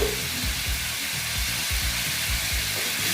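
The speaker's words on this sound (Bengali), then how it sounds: "এটা ভালো মতন কষিয়ে নিচ্ছি" Washed lentils frying and being stirred in a pan for a vegetarian Bengali-style chal kumra (ash gourd) curry, a close steady sizzle with rhythmic scraping strokes of a spatula.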